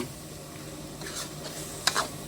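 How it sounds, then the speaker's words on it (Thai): Shrimp, green beans and curry paste being stir-fried in a pan, with a soft steady sizzle, a few scraping stirs and two sharp clinks of a utensil against the pan near the end. "สักพักนึงเราก็ใส่ถั่วลงไป ผัดให้เข้ากันนะฮะกุ้งถั่วนะฮะกุ้งถั่วแล้วก็พริกแกงนะครับผม"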